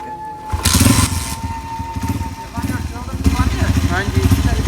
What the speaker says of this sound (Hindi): चलो यार बाइक ही उठा लूँ।